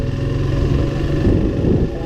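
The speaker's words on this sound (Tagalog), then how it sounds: "It's a Kawasaki Vulcan" A Kawasaki Vulcan V-twin motorcycle engine rumbles loudly and close by as it passes, holding a steady low drone throughout.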